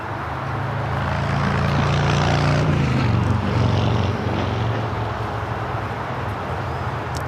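A Japan Airlines Boeing 787 Dreamliner at LAX taxis toward the southeast side of Tom Bradley terminal with a continuous engine rumble, its low hum dipping slightly partway through.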